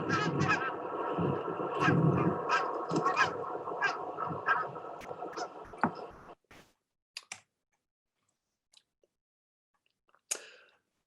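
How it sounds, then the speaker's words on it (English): A goose gives a rapid series of sharp yapping honks, much like a small dog barking, fairly close for about six seconds, then a few scattered fainter calls in near silence. "They have quite a unique call for a goose. It's actually sounds very similar to a small yapping dog."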